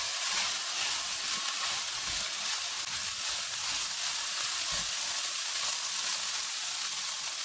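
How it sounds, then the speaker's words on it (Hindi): Minced keema with onion and green chillies frying in a pan, a steady, even sizzle that hisses on without pause and without any talk. "अब हम इसमें 1 प्याज डालेंगे, 2 सब्ज़ मिर्चें। इनको 3 से 4 मिनट तक भूनेंगे।"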